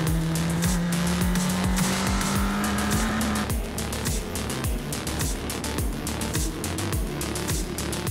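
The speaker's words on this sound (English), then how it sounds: "Guest driver Ukyo Sasahara led away from his pole position, as Jack Doohan behind him looked to make up places early on in the race" F3 single-seater race cars lapping Yas Marina Circuit in the 2020 F3 Asian Championship, a loud continuous high engine whine with rapid upshifts and passing cars, no talk.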